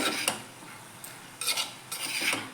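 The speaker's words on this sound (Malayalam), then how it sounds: "അപ്പോൾ ഇതെല്ലാം ഒന്ന് മിക്സ് ചെയ്തെടുക്കാം." Spoon scraping and stirring through cucumber thoran as spice mix is worked in, giving a few short, close scrapes against the pan with quiet gaps between.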